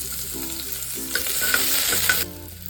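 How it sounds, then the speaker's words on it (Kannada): Chopped onion frying in a small amount of oil for a rustic-style mutton curry, a bright, hissing sizzle that swells midway and then cuts off abruptly, close up with no speaking. "ಈರುಳ್ಳಿ ಚೆನ್ನಾಗಿ ಫ್ರೈ ಆಗಿದೆ"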